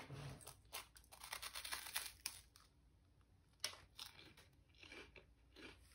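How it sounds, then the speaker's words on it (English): Chocolate wafer snack from a Japanese Tokyo Treat box crunches in crisp bites and rustling chews, loudest early then trailing into softer crackles and a sharp snap midway, close to the mouth with no speech. "It's got a bit of a crunch to it."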